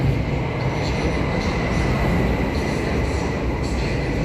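A train rumbles steadily at a Warsaw railway station, close and loud, with a continuous low roll of wheels and faint squeal tones throughout.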